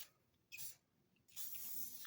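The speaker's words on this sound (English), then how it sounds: "I'm gonna spray it and see." Two bursts of cleaner sprayed onto a motorcycle helmet visor during detailing, a short hiss followed by a longer steady spray, close and fairly quiet with no talking.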